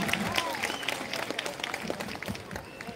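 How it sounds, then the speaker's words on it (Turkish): Audience applause at a traditional Circassian culture festival as a contestant is called up, a steady crowd clapping at moderate distance mixed with murmuring voices and a few brief tonal sounds. "Sayın Hakan Polat alkışlarla."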